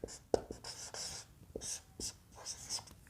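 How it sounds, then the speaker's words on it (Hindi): Chalk or a marker scratches across a classroom board in short, rhythmic strokes with soft taps and pauses, close and fairly quiet, with no speech. "अब यहाँ पे हम लिखेंगे राम"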